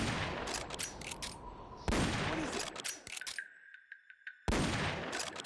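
Tranquilizer rifle shots in Metal Gear Solid: Peace Walker, a few sharp reports spaced across the moment, each followed by quick bursts and ringing game effects, with a brief near-silent gap between volleys.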